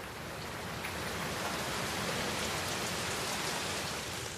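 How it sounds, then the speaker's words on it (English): Heavy rain pours steadily onto flooded fields in an open river landscape, a dense, even hiss with no voices. "A downpour cannot faze them. Heavy rain means flooded fields."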